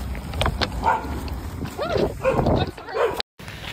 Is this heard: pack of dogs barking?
yes